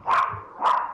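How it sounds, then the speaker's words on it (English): Two sharp dog barks ring out about half a second apart, close and clear against a quiet background. "the dogs are all on edge"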